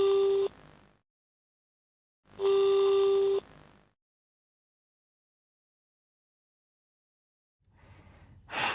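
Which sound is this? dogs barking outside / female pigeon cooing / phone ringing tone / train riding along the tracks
phone ringing tone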